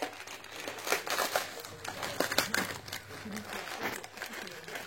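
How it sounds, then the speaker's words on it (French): Wrapping paper crinkles and rustles as gifts are unwrapped at a baby's first birthday, a soft continuous crackling with brief louder crumples, close by and fairly quiet, with voices faintly in the background. "On déballe. Encore des cadeaux."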